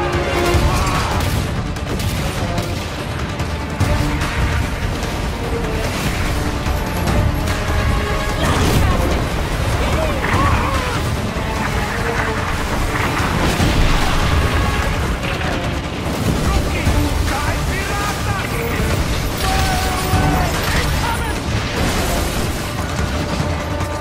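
Ship cannons fire and explosions burst during a pirate naval battle in the Skull & Bones video game, a dense, continuous roar of booms and crashes layered under music across the whole stretch.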